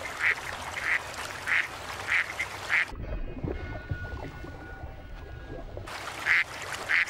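Ducks quacking on the surface of water, a run of loud, evenly spaced calls at the start, then a quieter stretch of low rumbling and faint bird sounds, before a final pair of quacks.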